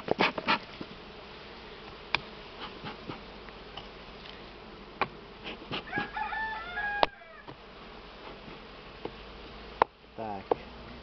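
Honey bees buzz and drone around the hives during a honey harvest, with short sharp insect passes and rising whines close to the microphone, and a rooster crows faintly in the background.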